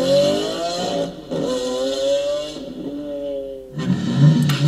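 A 2JZ-powered BMW E36 drifting at Yas Marina Circuit in Abu Dhabi, its engine revving loud and close in sustained high-pitched pulls broken by brief lifts, ending in a rougher, clattering burst.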